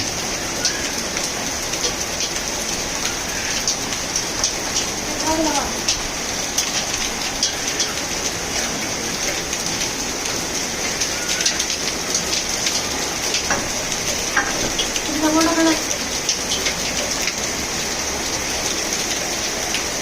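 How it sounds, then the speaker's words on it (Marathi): Steady, dense heavy rainfall in Udgir, India, fills the scene with a constant hiss, with a few brief louder splashes and low rumbles mixed in; no voices. "मोठा पाऊस खूप मोठा पाऊस पडत आहे"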